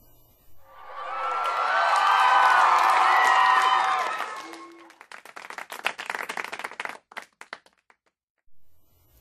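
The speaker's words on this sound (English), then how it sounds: "the rest of the class cheered and clapped" A class of children cheering and clapping, a loud swell of excited crowd cheers for a few seconds that fades into scattered, irregular claps and cheers that thin out and stop near the end.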